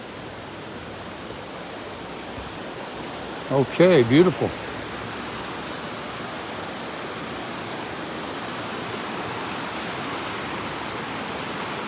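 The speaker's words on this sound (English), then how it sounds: "That's why I'm hearing the water." A mountain stream on the Chimney Tops Trail in the Smoky Mountains rushes in a steady, unbroken hiss throughout, with a voice speaking briefly partway through.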